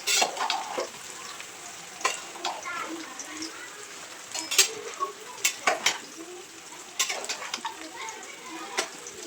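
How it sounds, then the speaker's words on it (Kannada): Onion and garlic sizzle in hot oil in a pan as chicken gravy is started, a steady crackle broken by sharp clinks and scraping stirs, with a person speaking quietly throughout. "ಈರುಳ್ಳಿ ಮತ್ತು ಬೆಳ್ಳುಳ್ಳಿಯನ್ನು ಹಾಕಿದ್ದೀವಿ ಎಣ್ಣೆಗೆ ಸ್ವಲ್ಪ ಫ್ರೈ ಮಾಡೋದಕ್ಕೆ"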